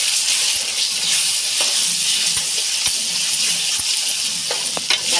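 Chili powder stirred into an onion mixture frying in a pan, giving a steady, close, continuous sizzle with soft scraping stir strokes throughout.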